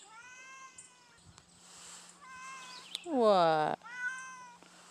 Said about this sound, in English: So this is a stray cat that showed up about 2 weeks ago during a storm.